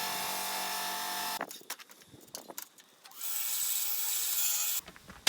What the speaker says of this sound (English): polishing this window with a buffing wheel and buffing compounds